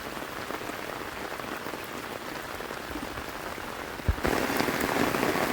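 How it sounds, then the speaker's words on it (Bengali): Heavy morning downpour in rural Bangladesh during traditional rain fishing, a dense, steady hiss of rain beating on surfaces with no voices, growing louder and closer for the last second or so. "আবার এই সকালের নাগাদ মুষলধারে বৃষ্টি।"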